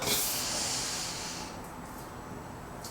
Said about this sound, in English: Big deep breath in and out.